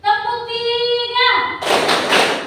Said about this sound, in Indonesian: Tepuk 3.